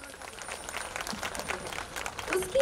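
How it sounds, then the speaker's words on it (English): Audience applause at a Kendriya Vidyalaya school annual day celebration, a steady wash of many hands clapping that builds slightly toward the end, heard alone without speech. "let's have a big round of applause for our beloved school and its achievements"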